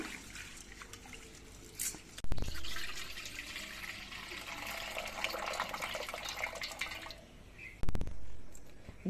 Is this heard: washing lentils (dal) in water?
yes